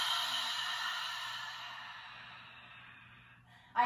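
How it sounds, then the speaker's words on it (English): One long, deep exhale through an open mouth during yoga breathing, a close airy whoosh that fades gradually over several seconds before a quick breath at the end. "Open mouth, exhale, get all of the air out."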